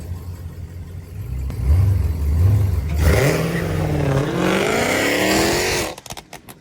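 A Dodge Demon 170 and a Challenger 392 launch from a dig, their engines rising in loud revving pitch sweeps that climb and fade over several seconds, ending in a brief clattering burst.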